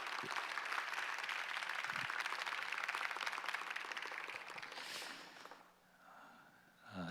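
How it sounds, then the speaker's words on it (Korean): Audience applause at a church seminar on the Shincheonji sect, welcoming Pastor Kwon to lecture: a dense, steady wash of clapping that holds for about five seconds, then thins and fades, with a brief swell at the end. "우리 격려의 박수로 환영하겠습니다"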